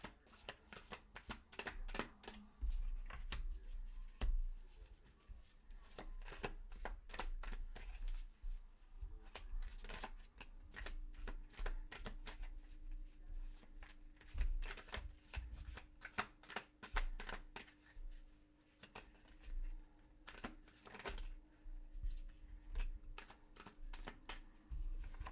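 Tarot cards are shuffled repeatedly for a reading, with dense riffling and flicking bursts and soft card slaps that continue close and steady throughout, with no voices.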